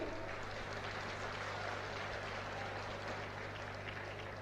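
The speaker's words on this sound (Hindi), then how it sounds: "बजाइए ताली।" Dense, steady clapping from a large political rally crowd addressed by Rahul Gandhi, a continuous wash of applause lasting throughout with no pauses and no clear speech on top.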